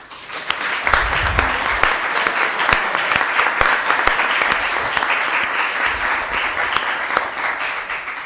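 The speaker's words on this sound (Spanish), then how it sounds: "Yo creo que esto también necesita un fuerte aplauso." An audience at a university talk on migration, refugees and human rights bursts into strong applause, sustained dense clapping that carries on evenly for several seconds without speech.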